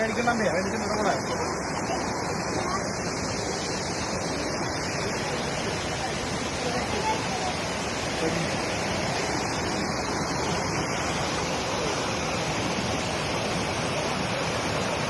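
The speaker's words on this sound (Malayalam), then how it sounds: "വെള്ളച്ചാട്ടം" Steady, broadband rushing of falling water fills the whole stretch, a continuous roar with no breaks.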